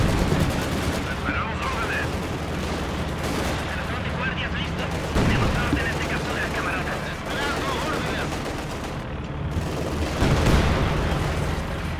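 Bursts of machine gun fire and gunshots in a Company of Heroes 2 multiplayer battle, dense and continuous with louder volleys, under faint battlefield talk.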